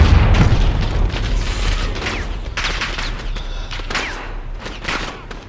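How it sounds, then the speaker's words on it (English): Grenade blast and gunfire in Call of Duty Modern Warfare's campaign on Hardened difficulty: a loud boom opens, followed by a dense, continuous fusillade of shots with rumbling low end, repeated bursts of crackling fire throughout, and no talking. "Oh, grenade!"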